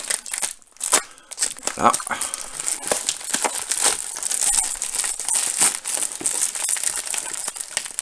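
A small envelope shipped from eBay US being unwrapped up close, with loud crinkling, crumpling and tearing of paper and plastic in busy bursts, while someone talks in French over the handling.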